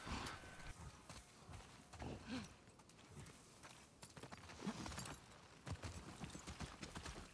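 Horse hooves clip-clop at a steady walking rhythm in The Last of Us Part II, close and fairly loud throughout against a busy, noisy game background.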